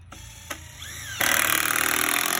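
A power drill drives screws into a pressure-treated board. After a few light clicks and taps, the motor kicks in with a loud, steady whir that holds to the end.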